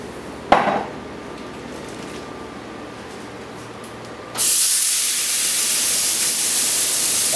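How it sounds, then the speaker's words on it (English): Olive oil sizzles and hisses in a hot cast iron pan for searing tri tip, a sharp clatter first, then a loud steady sizzle that rises suddenly and holds. "we're going to need to add a little bit of olive oil to the pan to get the sear going"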